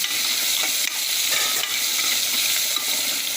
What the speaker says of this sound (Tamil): ஐயோ வதங்கட்டும் நல்லா வதங்கட்டும்